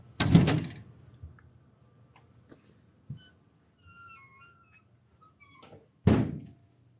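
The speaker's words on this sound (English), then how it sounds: "let's go ahead and open this door" A door opening in a warehouse during a nighttime paranormal investigation, with a loud broadband clunk at the start, a few faint knocks and small creaks in between, and a second heavy thunk near the end, in a quiet, empty space.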